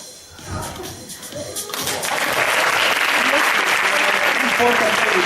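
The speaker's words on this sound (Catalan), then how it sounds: "Un fort aplaudiment." Audience at a school end-of-year festival bursts into loud, full applause after a card trick, building from scattered claps and thumps into steady dense clapping.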